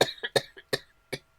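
Several sharp, dry coughs from a person nearby, five distinct bursts spaced unevenly over a second and a half, fairly quiet and with no talking between them.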